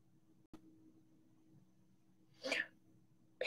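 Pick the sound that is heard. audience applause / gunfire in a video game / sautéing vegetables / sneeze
sneeze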